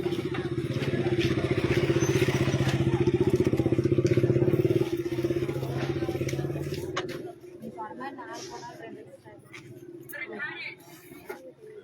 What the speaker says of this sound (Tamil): வண்டி வர்றது கொஞ்சம் வழி விட்டுருங்கக்கா